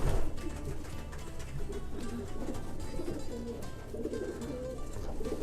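Racing pigeons cooing in a loft in England, soft repeated low coos close by over a steady background murmur.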